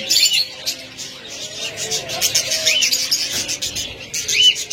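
Small caged pet birds such as budgerigars, cockatiels, lovebirds and diamond doves chirp and twitter continuously in a dense, overlapping chorus, with brief louder bursts, as at a pet bird stall.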